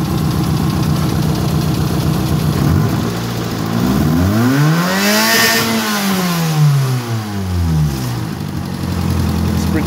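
Mitsubishi 4G18 DOHC engine idling with an uneven misfire from a failing injector, loud and close, with one rev rising and falling mid-clip, no speech.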